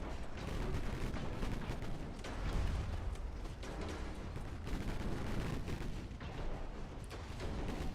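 Naval gunfire from destroyers in the warship game Ultimate Admiral Dreadnoughts, a steady rumble of repeated cannon booms and distant shell bursts rolling on without pause, fairly muffled and continuous.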